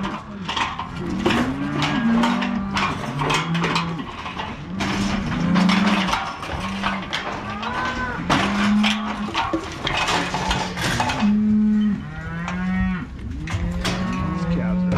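Cattle and calves mooing on a Montana ranch during a cattle drive: many overlapping moos and bellows, near and farther off, continuing almost without pause, with some clattering in the background.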